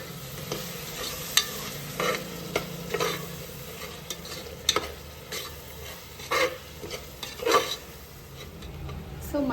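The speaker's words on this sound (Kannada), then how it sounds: "ಸೊ ಮಸಾಲ ಪೌಡರ್ಸ್ ಎಲ್ಲ ಹಾಕಾದ್ಮೇಲೆ ಕರ್ಡ್ ಆ್ಯಡ್ ಮಾಡ್ತಾ ಇದ್ದೀನಿ" Curd being stirred into biryani masala frying in a pan for mutton biryani, with a steady sizzle under repeated scraping and clinking strokes of a spoon against the pot.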